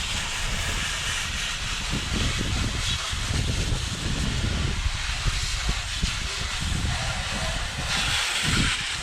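A water spray rinsing cleaner off a John Deere 3235A tractor: a steady, broad hiss of pressurized water hitting metal, close and continuous with slight surges.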